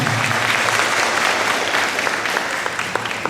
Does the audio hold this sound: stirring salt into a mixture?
no